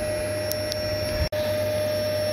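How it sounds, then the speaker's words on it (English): Vacuum running during a beehive relocation from a small wall vent, sucking up bees with a steady close whine and broadband hiss, broken by one brief sharp dropout near the middle. "we'll just vacuum up a few of the ones that are over there"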